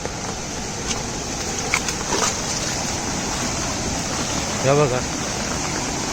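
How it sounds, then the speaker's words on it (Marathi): A swollen Konkan river rushes hard after torrential monsoon rain, a steady broadband roar filling the clip, with someone briefly talking over it. "एवढ्या जोरात पाणी वावता बघा"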